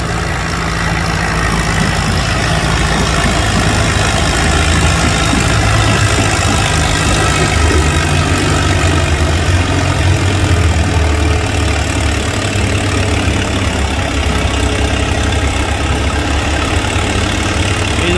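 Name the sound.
Farmall M tractor engine at a tractor pull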